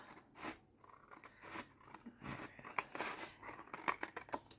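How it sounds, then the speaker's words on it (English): Scissors cutting through paper for a hidden journal card, a faint, close series of crisp snips and rustles in an irregular rhythm, no speech. "you just want to cut right along"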